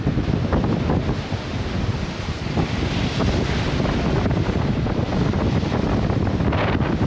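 Strong wind buffets the microphone on the open deck of the Queen Mary 2 crossing the Atlantic Ocean, a constant loud roar with gusty rumble and faint sea wash beneath, no voices.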